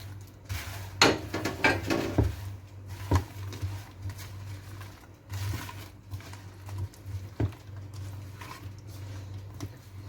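Biscuits being stirred into cooled melted chocolate in a bowl for a chocolate cold cake, giving irregular clinks, scrapes and soft thuds of a spoon against the dish, close and intermittent.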